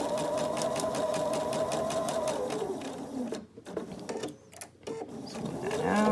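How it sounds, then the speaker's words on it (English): A sewing machine stitching a quarter-inch seam while piecing a table topper, a close, steady rapid whirring chatter that pauses briefly twice and then starts up again. "We're just going to start to sew our 1/4 inch."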